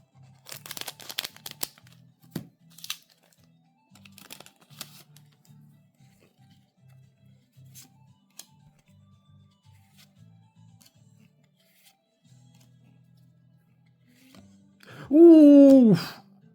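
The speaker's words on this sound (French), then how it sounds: "donc ça va être un coup de ciseau." Scissors cut open a Japanese OCG Yu-Gi-Oh Duellist Advance booster pack, with faint snips and crinkly foil rustles, followed near the end by a loud vocal exclamation.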